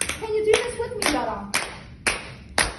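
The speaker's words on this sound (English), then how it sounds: "Clapping." Hands clap in a steady, loud beat, six sharp claps about half a second apart during a laughter yoga session, with a faint voice underneath at the start.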